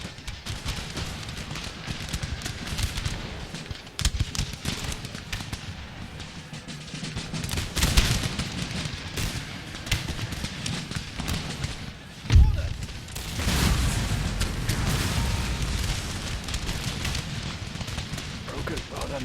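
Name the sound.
musket volley fire in video game Empire Total War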